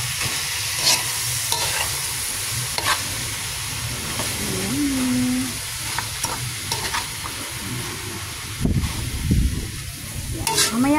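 Chop suey with optional chicken skin being stirred and tossed in a frying pan, scraping utensil strokes over a continuous close sizzle and hiss, with a brief louder clatter near the end.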